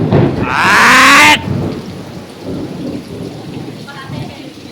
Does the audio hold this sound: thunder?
yes